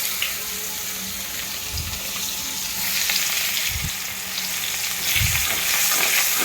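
Chopped onions fry in oil in a wok with a loud continuous sizzle, broken by a few soft thuds and scrapes of stirring, close up with no talking.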